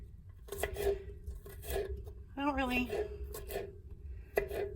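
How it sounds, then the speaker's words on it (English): A knife cuts garlic in an RV kitchen, making quiet, irregular chopping taps on a board. A steady hum runs underneath, and a brief tonal squeak rises midway. "I'm gonna cut up this garlic."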